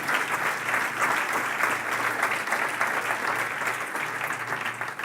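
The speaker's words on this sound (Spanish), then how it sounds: "Un aplauso al Señor, por favor." Church congregation at a Spanish-language service applauds in praise, a continuous, moderately distant wash of many hands clapping evenly for several seconds.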